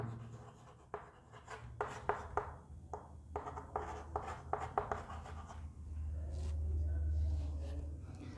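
Chalk or marker writing on a board in a class 12 biology lecture, a series of quick scratchy strokes in irregular bursts, with the room tone swelling toward the end.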